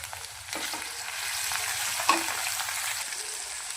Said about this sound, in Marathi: कांदा मस्त फ्राय करून घ्यायचा। त्याचबरोबर बारीक केलेला लसूण आणि खडा मसाला पण आपण चांगला फ्राय करून घेऊया।